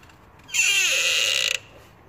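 A seized heater glow plug being turned with a wrench, giving one sustained, loud, harsh metallic creak and screech that lasts about a second, with a rising squeal at the start. No one talks.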